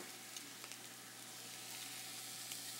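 Cakes frying on a hot grill at a fish market kitchen, a steady broadband sizzle with faint crackles throughout, fairly quiet and with no talk.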